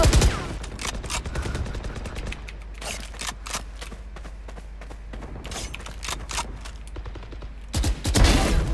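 Rapid bursts of gunfire in a shooting video game, sharp cracks fired in quick clusters, dense at the start and end with sparser single shots in between, loud and close with no talking.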